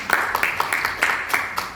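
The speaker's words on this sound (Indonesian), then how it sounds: "Ya, tepuk tangan sekali lagi ya." Scattered clapping from a small audience at a marketing-plan presentation, a handful of loose claps in a brief, uneven burst at moderate loudness.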